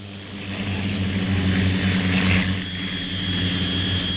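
A small jet-driven helicopter lifting off, its rotor spun by compressed air from a small jet engine. The loud, steady turbine whine and droning rotor hold constant and close throughout, with no voices.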